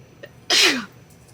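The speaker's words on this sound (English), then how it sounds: "I might sneeze again, I apologize." One loud, close sneeze from someone with a small cold, with a quick intake of breath before it and a falling tail, then near silence.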